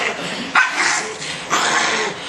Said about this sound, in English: Such a pretty dog.